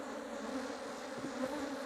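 Honey bees crawl and buzz over a hive frame during a colony split, a close, steady, fairly quiet drone of many wings with no voices.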